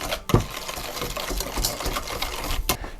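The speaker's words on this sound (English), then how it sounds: "whisk these eggs up." Egg yolks and sugar being whisked by hand in a bowl for white chocolate creme brulee: a rapid, steady, close-up clatter of whisk strokes for a few seconds.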